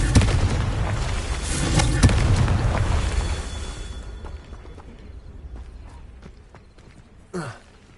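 Confringo blasting spell explosions in Hogwarts Legacy, loud booming blasts at the start that fade into rumbling debris, with a short sharp burst near the end and a voice briefly present.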